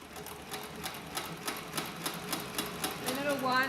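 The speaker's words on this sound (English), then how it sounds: "press the accelerator pedal," A CB4500 leather stitching machine runs steadily while winding thread onto its bobbin, giving a regular rapid ticking rhythm of repeated mechanical clicks at moderate loudness, close by.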